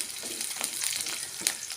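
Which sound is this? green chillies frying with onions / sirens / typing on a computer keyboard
green chillies frying with onions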